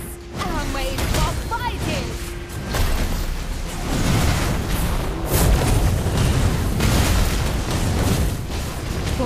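Explosion as a turret is destroyed in a video game, a deep booming blast with crackling bursts and whooshes layered over dense game effects, with voices audible in the mix.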